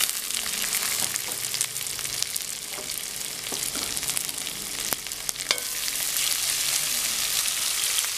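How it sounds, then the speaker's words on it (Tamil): Carrots, beans and peas sautéing with onions for vegetable fried noodles, a steady, loud crackling sizzle running throughout with occasional sharper pops and faint stirring, no talking. "இது கொஞ்ச நேரம் நல்லா வதங்கட்டும்."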